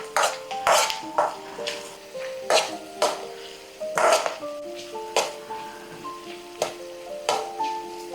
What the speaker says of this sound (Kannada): ಸೊ ಈರುಳ್ಳಿನ ಏನಂದರೆ ಕೆಂಪಾಗಿ ಫ್ರೈ ಮಾಡ್ಕೋಬೇಕು ನಾವು.